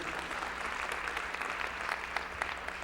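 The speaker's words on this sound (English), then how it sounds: "Let's give Nancy a round of applause, ladies and gentlemen." A conference audience at a tech convention kickoff gives a round of applause, a moderate, fairly distant patter of many hands clapping steadily for about three seconds.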